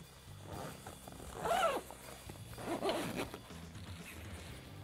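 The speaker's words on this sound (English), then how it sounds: "So now we'll zip this back together." A zipper on an Arctiva Comp 8RR shell snowmobile bib is pulled closed in two quick, close rasping strokes, with a quiet pause between them and no voices.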